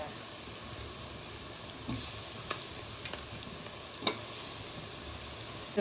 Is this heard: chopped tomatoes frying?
yes